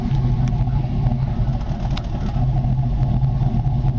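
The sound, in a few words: 2002 Avalanche truck engine and tailpipe exhaust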